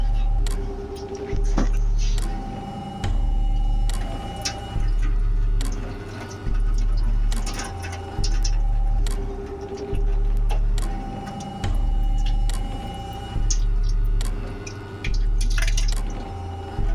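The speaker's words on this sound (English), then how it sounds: "Luckily, this thing has little holes in it, so we can hopefully drain it carefully without" Water draining from a pot of cooked quinoa through the small holes of a strainer, coming in repeated pulses of trickling and dripping over a steady low hum, with no talking.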